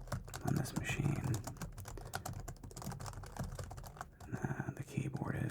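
Fingers typing on a Dell computer keyboard, a close, fast run of crisp key clicks and taps with short pauses, under soft whispered talk.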